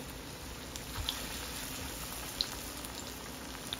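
Dal vadas frying in shallow oil in a pan, a soft continuous bubbling sizzle with a few faint pops, steady and quiet, no talking.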